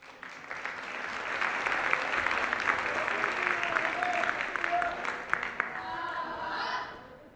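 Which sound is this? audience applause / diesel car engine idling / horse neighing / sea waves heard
audience applause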